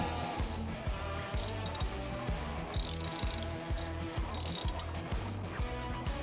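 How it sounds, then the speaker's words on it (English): A ratchet tightens the oil drain plug on a 2023 Husqvarna FE 501 S motorcycle, clicking in quick, even pawl ticks across repeated short strokes, close and clear with no talk. "Tighten her up as much as you can before we get the torque wrench out."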